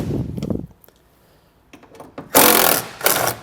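Power driver with an 8mm socket backing out tail light fasteners on a vehicle with the tailgate open; quiet clicks and handling first, then two loud whirring bursts of the driver close by.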